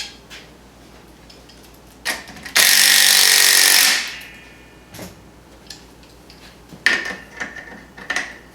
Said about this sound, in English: these are 1/4 bolts, so we're running them in with a 7/16 socket